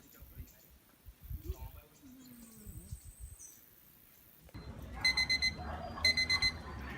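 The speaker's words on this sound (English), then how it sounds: "alarm went off because she had forgotten to turn it off" An alarm clock goes off after a quiet stretch of low, muffled sounds, its electronic ringing arriving in loud, evenly repeating bursts of beeps that continue to the end.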